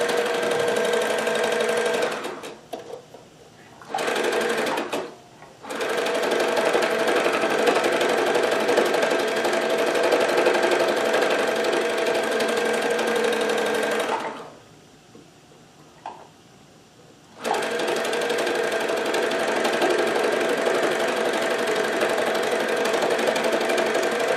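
A needle felting machine punching grass landscape work runs with a loud, steady mechanical buzz, stopping briefly twice, near and without talk.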